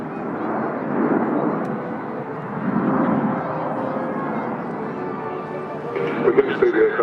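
Swing-wing jet aircraft sweep past in delta formation, a broad, steady roar rising and falling as they pass, with a commentator talking over it throughout.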